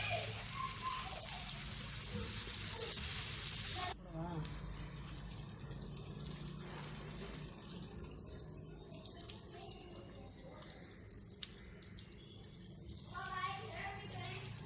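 Raw banana slices fry in a pan with a steady broadband sizzle, loud and close, and clatters of turning partway through.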